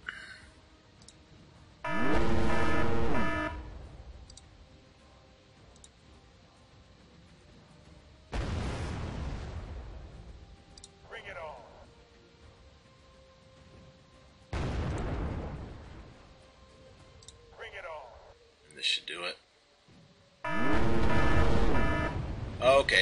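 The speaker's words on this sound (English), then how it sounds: "If I blow up one of these Hemets, the other four will blow." Large explosions of HEMTT military logistics trucks in a video game, four loud booming blasts spaced several seconds apart with clicking interface sounds and quieter game noise between them.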